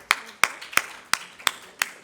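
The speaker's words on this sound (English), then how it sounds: "A round of applause for our folk here doing our roundtable panel" Audience clapping for conference roundtable panelists, heard as six sharp, evenly spaced claps, fairly close and crisp, with no talking over them.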